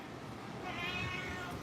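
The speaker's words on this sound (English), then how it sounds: "we did get a new cat in here named Bruiser." A newly arrived feral cat with fractured canines meows once indoors, a faint, drawn-out cry rising out of a quiet room with no talking.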